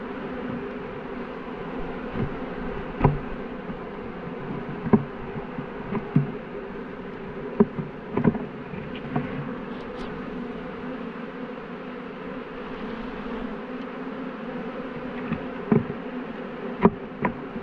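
A steady, low hum of many bees buzzing together around a hive box, with individual insects zipping close by now and then, no voices.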